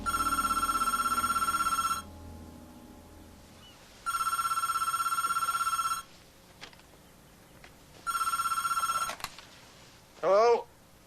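A telephone rings in three long, loud bursts of about two seconds each, separated by equal pauses. The room is otherwise quiet until a short squeak follows the third ring.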